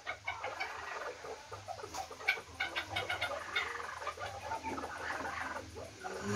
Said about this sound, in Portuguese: Tá brabinha a choca.